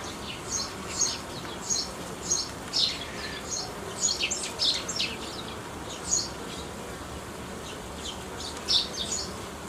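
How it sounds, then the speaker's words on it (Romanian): A steady hum of honeybees fills the air around a hive nucleus being reinforced, while short, bright bird chirps repeat intermittently nearby. "Sunt atent la albina."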